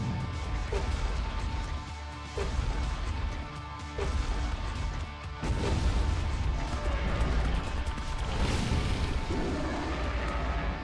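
Rapid bursts of gunfire and heavy impacts crash in quick succession in ARK: Survival Evolved, loud and dense, like a chaotic shootout with booming hits layered over one another.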